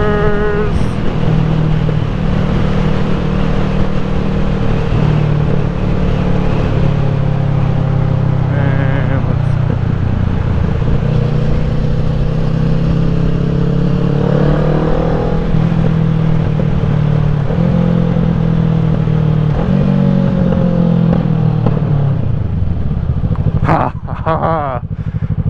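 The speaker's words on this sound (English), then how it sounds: "Exhaust sounds under bridges are better than exhaust sounds not under bridges." A car engine revs and roars loudly under a bridge with a reverberant, enclosed quality, pitch rising and falling as it accelerates and shifts.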